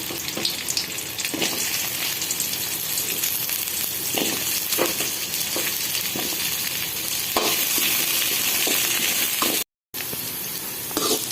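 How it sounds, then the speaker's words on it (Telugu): Okra pieces frying in a little oil in a pan, a steady close sizzle with crackles and occasional stirring scrapes throughout, briefly cutting out near the end. "ఇప్పుడు ఆయిల్ కొంచెం ఆయిల్ వేసుకొని దీంట్లో బెండకాయ ముక్కలు వేసుకొని వేయించుకోవాలండి"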